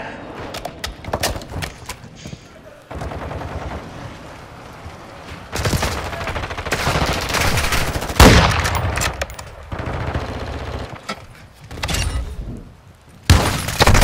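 Incendiary rounds fired from a sniper rifle in a shooter video game, with repeated sharp shots and crackling bursts, some loud and close, amid ongoing battle noise and a faint voice.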